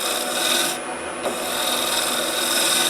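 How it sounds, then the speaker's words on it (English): A hand scraper rasps across wood to clean off tool marks, giving steady close scratchy strokes with a brief pause partway through. "Just use my scraper"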